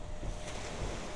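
A boat speeds across open sea off Mathagal in Jaffna, Sri Lanka, a steady broadband rush of hull-slapping water and wind buffeting close to the microphone, with no voices.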